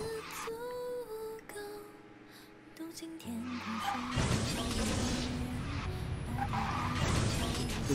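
Racing car in the video game Ji Su Ling Yu (Speed Drifters), the gold 'SB Warrior' electronic float car with blue-purple flame exhaust, braking hard and skidding: a tonal engine hum gives way to a long, loud, dense tyre skid that runs on to the end.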